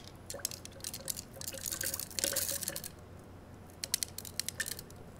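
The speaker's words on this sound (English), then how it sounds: "now I'm going to pour in glass beads until I have 7 mils of that as" Small glass beads pour into a laboratory measuring cylinder, giving a light, trickling patter in quiet bursts with a few sharper clicks near the end, and no talking.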